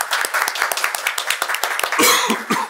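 A round of applause for a speaker at an academic seminar, brisk steady clapping from a modest audience, with a cough near the end.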